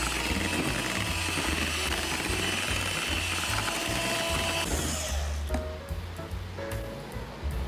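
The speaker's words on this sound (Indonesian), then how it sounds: "Kemudian, mixer telur dan gula halus sampai mengembang dan berwarna putih pucat." An electric hand mixer whirs steadily as it beats eggs and powdered sugar for a steamed cheese sponge cake, a continuous close motor drone with buzzing harmonics that eases slightly toward the end.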